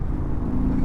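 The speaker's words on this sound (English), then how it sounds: "I do want to do an acceleration test to see if I notice a difference out of that high output motor" A 2025 Harley-Davidson Low Rider ST with its high output motor rolls on in second gear from about 30 mph, a brief, close, deep engine rumble with a rising tone.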